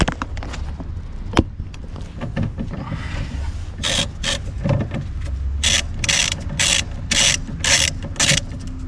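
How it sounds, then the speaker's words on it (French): A ratchet works loose a small bolt on a Renault Kangoo, quick bursts of clicking bunched in the second half, close by with some rubbing and handling noises between the clicks. "là juste vous démontez le petit boulon"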